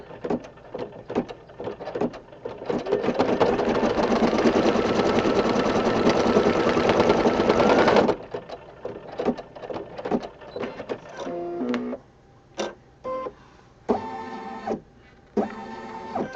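An embroidery machine stitches a fabric placement on a hooped Valentine rug project, starting with rapid ticking, then a dense, loud run of about six seconds before breaking into short stuttering bursts and pauses.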